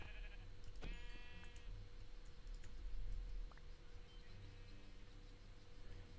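Sheep in Minecraft give a couple of short bleats amid soft game ambience, with quiet clicks and patter around them, no voices.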